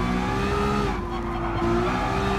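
A race car in Gran Turismo Sport spins out, its engine droning loudly while tires squeal and skid briefly in the middle before the engine note steadies again.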